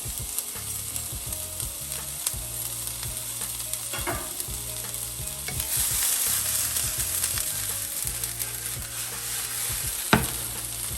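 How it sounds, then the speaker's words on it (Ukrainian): Steady sizzling of onions frying in a pan, with occasional scraping and stirring sounds and a brief louder clink near the end. "Починаємо обсмаження з нашої цибулі"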